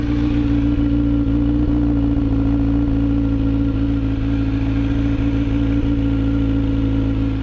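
A Kawasaki Z900 motorcycle fitted with a slip-on exhaust idles close by, a loud, steady, deep engine rumble with a throbbing low pulse and no speech.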